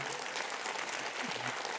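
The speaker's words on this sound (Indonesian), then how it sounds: "berikan tepuk tangan saudara" Applause from a church congregation during a sermon, a brief steady wash of clapping at moderate level with a few faint voices mixed in.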